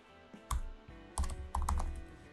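Computer keyboard keys tapped close up in three short bursts of quick clicks with brief pauses between, typing a name into a field.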